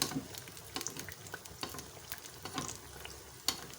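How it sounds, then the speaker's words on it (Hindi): Rolled sweet warqi chonge dough frying in oil, with a crackling sizzle and repeated sharp spoon clinks and stirring taps close by, no voices. "हमारे तमाम चुंगे जो हैं वो फ्राई हो गए हैं"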